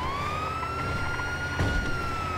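Ambulance siren in a GTA roleplay game, a loud steady wailing tone with bright harmonics rising slightly then holding, with a brief rumbling bump of engine or traffic noise partway through.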